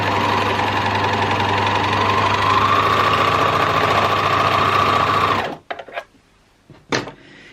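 A sewing machine stitches a stretch neckband seam in a steady, loud, close mechanical whir for about five seconds, then stops, followed by a few faint clicks and handling sounds.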